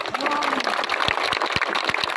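Audience at a trade-chamber gathering in Oghi claps for a guest, a dense patter of hand claps with sharper individual slaps standing out, fairly close and steady throughout.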